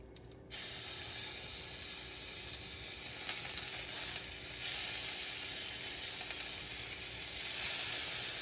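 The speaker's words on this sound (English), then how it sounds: "if on my first ever vlog I screwed up my ground beef" Ground beef frying in a pan gives a steady, close sizzling hiss that starts abruptly after a brief quiet moment and holds at an even level with small crackles, swelling slightly near the end. No one speaks.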